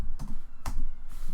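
Computer keyboard keys tapped while entering a command in AutoCAD drafting software, a few sparse, close clicks spread over a second and a half against a low background hum.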